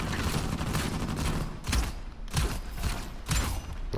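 Gunfire in the video game Uncharted 4: several distinct shots in quick succession over a steady background hum of game ambience, with a thumping rhythmic burst near the middle and more shots after it.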